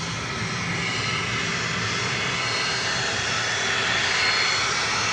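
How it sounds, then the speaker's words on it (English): A small Learjet's engine at an Atlanta airport, a loud, continuous broadband jet roar that holds steady and swells slightly near the end, with no voices. "that noise you hear is one of the little Lears down here"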